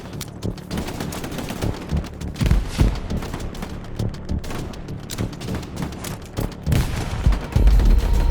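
Dense, sustained machine gun fire and rifle shots rattle through a battle in the console shooter Hell Let Loose, with rapid bursts and booming impacts layered continuously throughout.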